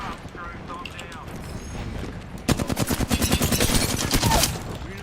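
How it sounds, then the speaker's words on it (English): Rapid bursts of automatic gunfire from the video game Apex Legends, with a dense run of evenly spaced shots starting midway and lasting about two seconds, loud over a busy game background and some talk. "Being shot at."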